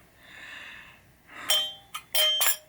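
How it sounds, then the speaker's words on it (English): A Gottlieb chime box from a Superstar pinball machine, partly broken and rigged back together, rings close by in four quick bright metallic strikes that ring briefly, after a soft breathy hiss. "this is the reason why Superstar has a Gottlieb chime box."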